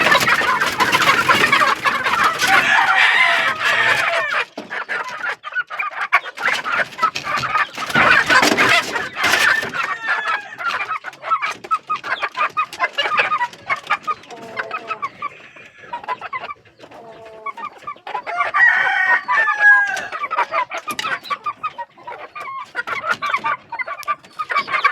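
Backyard chickens, including a pair of young roosters, cluck and chatter close by in a steady busy flock, with bursts of louder squawking and calling scattered throughout.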